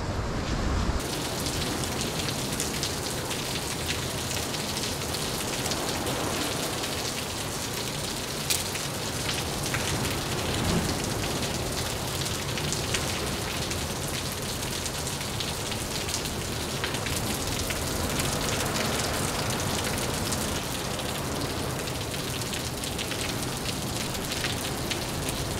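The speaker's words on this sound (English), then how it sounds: "it has been raining for maybe an hour" Steady rain pours down outside a cave camp, a dense, continuous hiss of drops hitting surfaces, loud and unbroken with no voices.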